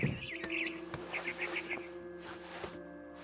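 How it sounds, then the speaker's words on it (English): A barn swallow chirps outside a window in the video game What Remains of Edith Finch, giving quick, bright twitters in a rapid run over a quiet room-like background. "Then I heard chirping outside my window. It was a barn swallow going back to her nest."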